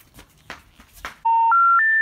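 A telephone keypad plays a quick rising sequence of dialing tones, three steady beeps stepping up in pitch after some faint background chatter.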